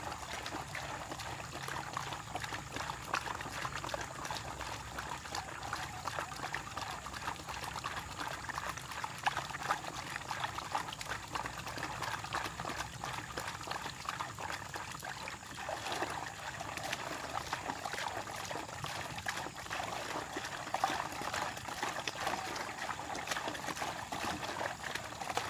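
A hand stirs fertilizer into water to dissolve it for sugarcane planting, giving a continuous soft sloshing and trickling at close range. The sound stays even and fairly quiet throughout, with no talking.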